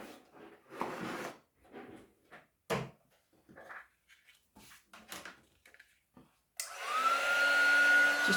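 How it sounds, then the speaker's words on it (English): A heat gun switches on near the end and blows steadily and loudly, with a rising whine as it spins up, after a stretch of quiet handling clatter and knocks. "Now we have the heat gun."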